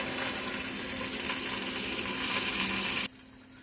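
Water poured into a pot of chicken fried in bacon grease for chicken and dumplings, a loud steady hissing sizzle and splash lasting about three seconds before stopping abruptly.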